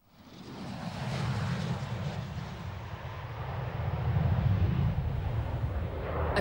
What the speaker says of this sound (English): A tornado fighter from RAF Strike Command takes to the skies.